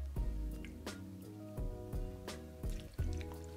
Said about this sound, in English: Then we're gonna add an ounce of water.